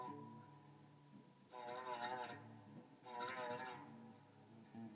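Two short scratchy, raspy bursts from an electric guitar played with hammer-ons, each lasting about a second and separated by a pause over a faint background hum.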